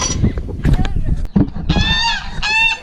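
Geese honk loudly close by in repeated nasal calls, with a louder burst of honking toward the end, mixed with rustling and some background voice.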